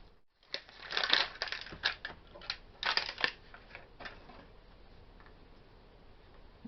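Crinkling and crackling of a Mini Brands Lord of the Rings package being torn open up close, a burst of quiet plastic rustles and snaps that trails off into faint handling noise, with no talking.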